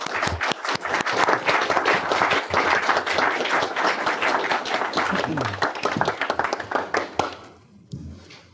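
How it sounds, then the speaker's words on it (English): Audience applause for a lecturer at an economics teaching event, loud and sustained clapping from a room of people with some voices underneath, tapering off into a few last claps. "a round of applause for Bob"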